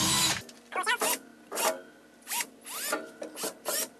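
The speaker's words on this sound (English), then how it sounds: "we push these into the holes, push them in nice and firm" Plastic wall anchors being pushed firmly into 5mm drilled holes during a hot water cupboard installation; a series of short scraping, rubbing bursts with pauses between them, close and fairly quiet.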